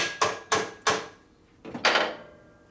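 Three sharp, evenly spaced hammer strikes ring out close by on a 1967 Harley-Davidson Shovelhead transmission during a rebuild, followed after a pause by a couple more hits that land with a brighter metallic clang.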